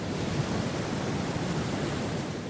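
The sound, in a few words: enormous ocean waves from hurricane-force winds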